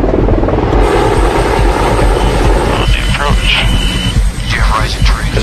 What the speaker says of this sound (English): for Spanky and helicopter number 2 to make the pickup